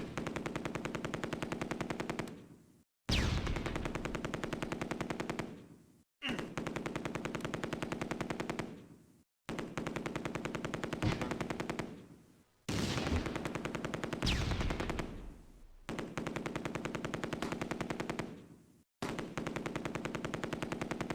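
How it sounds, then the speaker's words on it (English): Machine gun fire in the WWII video game Close Combat, as a Panther tank fires on an anti-tank gun: long sustained bursts of rapid, loud automatic fire separated by brief silent gaps, with no talk. "The Panther engages the rear anti-tank gun with machine gun fire"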